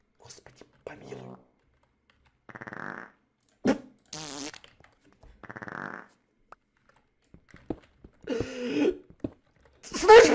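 Sputtering fart sounds in a video game prank, several short buzzy bursts scattered between whispers, clicks and quiet talking.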